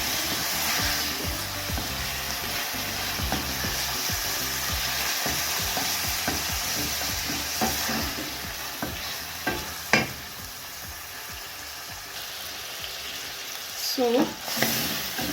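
Goat tripes (matumbo) fry in a pan for a long stretch, a loud continuous sizzle with repeated scraping stirs and a few sharper knocks, close by, with a brief spoken word near the end.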